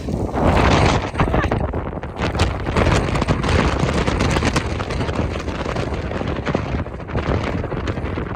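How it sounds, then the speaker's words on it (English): Strong wind buffets the microphone in a sustained, loud roar while hiking in rain in the Pyrenees, with heavy gusty rumble throughout and no clear talk. "it's so windy and rainy, and I had to sit down for a minute because the wind was blowing me over"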